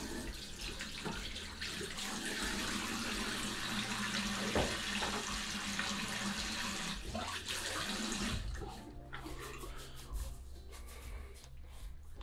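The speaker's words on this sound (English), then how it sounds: "Just get the beard nice and wet." Tap water runs into a sink while a beard is wetted, a steady close rush that shifts in tone as hands move through the stream, then thins and turns choppier near the end; no talk.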